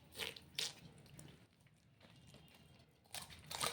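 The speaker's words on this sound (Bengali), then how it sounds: "এবার মাছটা ছুলে নেব" Scales being scraped off a rohu fish for curry: short wet scraping and crinkling bursts at the start and again at the end, separated by a quieter rustling pause, close and fairly soft.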